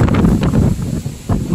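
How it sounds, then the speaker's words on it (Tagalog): Strong wind from Super Typhoon Rolly roars and buffets the microphone in loud, continuous gusts, with surging rushes and brief lulls throughout. "Ito, iba na ng direksyon yung hangin"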